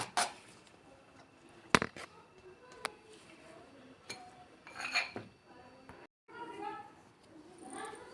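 A spoon scrapes and clinks against a metal strainer while a yogurt mixture for shrikhand is pressed through, giving scattered sharp taps and soft rustles under a voice talking quietly.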